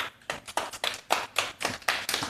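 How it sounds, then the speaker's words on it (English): An audience applauds after a talk on the impact of 5G on media, producing faint, distinct claps in a steady rhythm, about nine bursts, with no voices. "I'm not sure if you hear the applause here"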